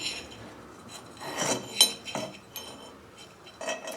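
Small metal nuts clink and scrape as they are fitted beneath a seized snowblower pulley, a few sharp close taps and rubs scattered over quiet, with no talking.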